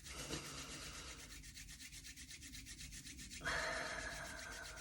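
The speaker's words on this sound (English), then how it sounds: "So starting rubbing our hands together, stimulating some of those energy points we've got in our fingers." Hands rub together during a guided relaxation session, a soft, close, steady brushing swish that repeats evenly and is quiet throughout.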